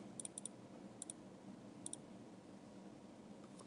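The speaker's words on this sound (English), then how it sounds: "So I'll double click on this 4." A computer mouse is clicked during architectural design software work, giving three quick pairs of faint, sharp double clicks spread apart over a steady low room hum.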